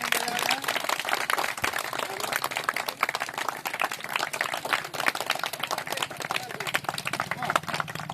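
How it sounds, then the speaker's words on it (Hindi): A crowd claps at a political campaign gathering in a village, a dense, continuous patter of many hands close by, with voices talking underneath throughout. "तो थोड़ा सा तालियों की गड़गड़ाहट किया जाए, तालियां बजाया जाए, तालियां बजाया जाए।"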